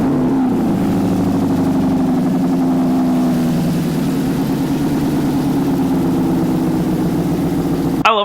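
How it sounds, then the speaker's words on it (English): Audi R8 supercar engine starting and idling during an oil change, a loud close steady engine hum with a brief rise after startup, then a settled idle until it cuts off abruptly. "then you start the engine, let it circulate"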